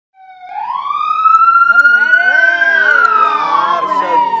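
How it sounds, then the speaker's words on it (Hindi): A loud siren rises and holds a wailing tone, layered with a second warbling siren, continuous and close. "सायरन हमेशा बजता रहता है"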